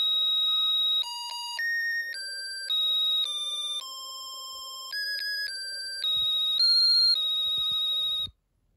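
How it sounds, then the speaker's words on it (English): An electronic alarm from a Snap Circuits Extreme SC-750 kit, triggered by light on a photoresistor, plays a beeping melody of stepped tones, loud and clear with no talking, then cuts off abruptly. "shining light on the photoresistor will trigger the alarm"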